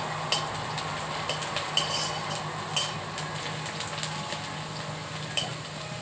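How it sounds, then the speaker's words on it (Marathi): Chopped onion frying in hot oil in a pan for egg bhurji, a steady close sizzle broken by occasional sharp clicks of stirring. "कांदा मी तेलामध्ये टाकलेला आहे, तो भाजत आहे"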